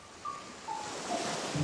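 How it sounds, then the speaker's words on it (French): Ocean surf rolls in on a cartoon beach, a soft rising and swelling wash with a few faint tonal chimes drifting over it and no talk. "Waouh, il y a tellement de vagues."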